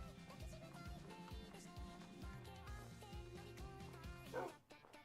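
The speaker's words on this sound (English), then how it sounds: "Nope, got dogs here." Dogs barking in the video game Minecraft, a series of short, repeated yips over busy game sounds, with a louder burst near the end.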